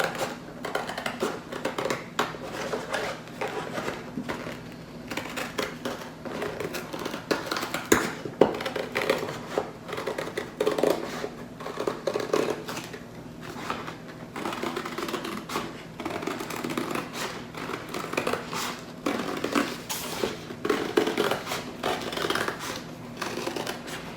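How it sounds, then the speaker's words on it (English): Scissors snipping through cardboard to cut out a traced circle, a steady run of close, crisp crunching cuts and paper rustle with no talking. "I'm going to go ahead and use some scissors and cut out my circle."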